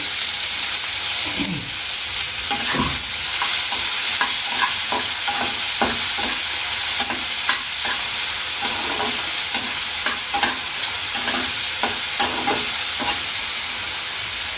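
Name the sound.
frying chopped onion and tomato in a pan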